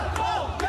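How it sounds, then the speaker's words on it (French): A crowd in Rouen's town centre booing Emmanuel Macron, a sustained jeering roar of many voices that holds steadily across the short moment, with a few sharper shouts rising above it. "Emmanuel Macron débute sa déambulation sous des huées"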